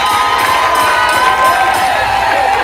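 A large crowd at a wedding celebration cheers and claps in a steady, dense roar that carries on without a break, with excited shouting mixed through the noise.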